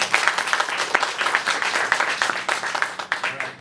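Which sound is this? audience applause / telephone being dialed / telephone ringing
audience applause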